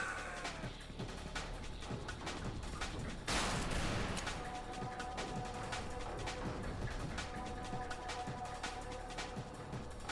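Weapons fire in Tangerine, a retro boomer-shooter style FPS video game, with rapid overlapping shots, bursts and blasts over a dense constant din, plus one louder explosive crash partway through.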